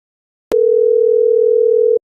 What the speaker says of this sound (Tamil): ரிங் போயிட்டு இருக்குடா